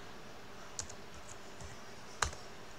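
A few separate clicks on a computer keyboard, keys pressed one at a time while entering a command in AutoCAD 2024, crisp and close with quiet gaps between them and no talk.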